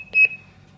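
A Golden Security GS-G90E GSM burglary alarm panel gives a single short electronic beep as its door sensor is triggered, clear and close in a quiet room.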